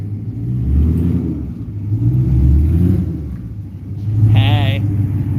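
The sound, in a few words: Audi RS7 car engine revving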